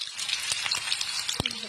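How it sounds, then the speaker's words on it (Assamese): Potatoes frying in a pan for a potato fry with a dried chilli, giving a brief close crackling sizzle with scattered sharp pops. "ইফালে আলু ভাজি বনাবলৈ লৈছো"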